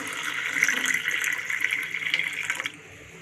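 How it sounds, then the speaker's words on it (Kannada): Hot water poured into a cup, a steady close splashing stream that stops abruptly near the end. "ಬಿಸಿನೀರು ಹಾಕ್ಕೊಳ್ತಾ ಇದ್ದೀನಿ"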